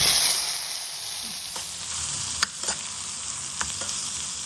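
Ridge gourd with asafoetida being sautéed in oil alongside urad dal and dried red chillies, giving a steady close sizzle with a few sharp spatula scrapes and clicks against the pan.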